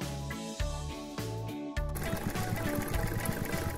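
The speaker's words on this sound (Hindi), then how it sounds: "अब मैं जल्दी से व्हाइट और पिंक फैब्रिक को सिल देता हूँ।" A sewing machine stitches white and pink fabric, its fast mechanical whir starting partway through and running steadily under loud background music.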